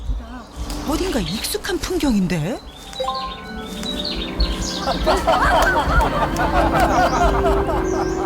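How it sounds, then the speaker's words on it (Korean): Birds chirp and tweet along a walking path on a sunny day near a mountain, with scattered calls around people talking close by. "새가 지저귀는 소리로 가득한 산책길."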